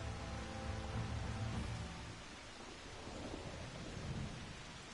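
Rain falls steadily during a thunderstorm in the game Final Fantasy XIV, with a deep rolling rumble of thunder swelling early and fading while the rain keeps hissing on alone.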